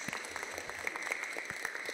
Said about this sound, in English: we can give a round of applause.